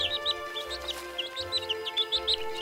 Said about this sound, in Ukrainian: Це курчатка до нас завітали